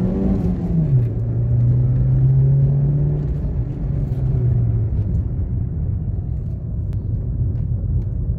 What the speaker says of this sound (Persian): خب دوستان، بریم یه گاز به ماشین بدیم